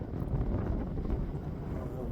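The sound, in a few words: wind gusting outdoors on the microphone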